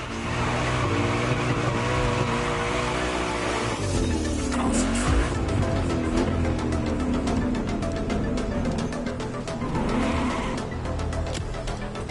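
A car drifts in GTA 5, its engine roaring loud and close under a sustained squealing screech of sliding tires that rises and falls through the turns.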